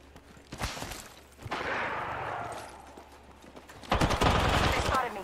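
Bursts of video game gunfire in a Breach and Clear style shooter: a few sharp shots early, a sustained rattle in the middle, then a louder dense volley near the end, with a voice speaking over parts of it.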